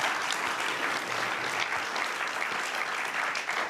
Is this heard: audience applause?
yes